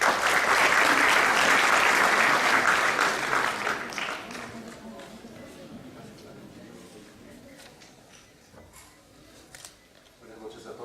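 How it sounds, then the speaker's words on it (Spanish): Applause from an audience at a law association lecture in Lima, loud sustained clapping from many hands that gradually tapers into scattered claps and quiet room noise. "Con un fuerte aplauso."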